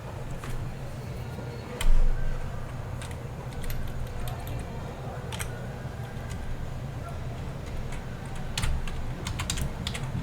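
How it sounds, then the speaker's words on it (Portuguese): Keys clack steadily on a computer keyboard at close range, with a few sharper, louder strikes standing out over a low background hum. "vou digitar filter"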